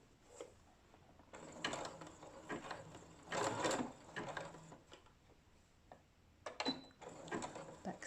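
A sewing machine runs a small zigzag stitch over underarm elastic on a bra cup, quiet short bursts of mechanical ticking and whirring broken by brief pauses, close but soft.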